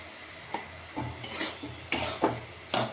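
Boiled chickpea greens, sweetened with a little sugar, are stirred and fried in a pan: a soft sizzle under several distinct scraping strokes and light clinks of a spatula against metal, close and clear.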